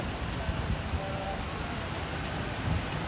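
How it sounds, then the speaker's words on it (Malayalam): Heavy rain pours down steadily in a coastal town, a dense continuous roar of drops hitting surfaces with no break, loud and close throughout. "അടിച്ച് പറന്ന് പെയ്യുന്നുണ്ട് മഴ"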